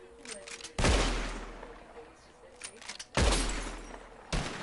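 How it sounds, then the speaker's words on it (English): Gunshots fired at bottles in Red Dead Redemption 2: two loud, sharp revolver reports about two seconds apart, then a third shot at the end, with quiet ambience and faint game sounds between. "Whoever shoots more of these bottles wins."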